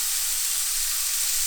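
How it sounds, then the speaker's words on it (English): Steady, bright sizzling hiss of steak searing in a very hot cast iron pan, continuous and close, with no voices. "It is sizzling."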